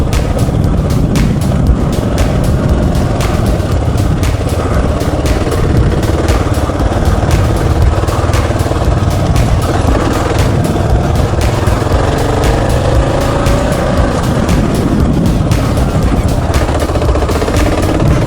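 A motorcycle rides through a spring dirt-bike outing, its engine roaring loudly and continuously at close range with a rough, chugging rumble and heavy wind buffeting throughout.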